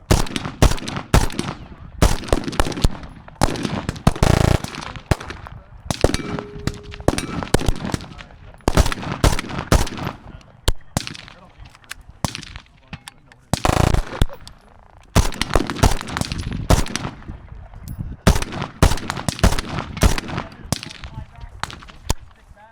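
AK rifle gunfire at an outdoor night shoot, with sharp, loud, close shots in irregular single rounds and quick bursts that continue steadily, mixed with people talking between the shots.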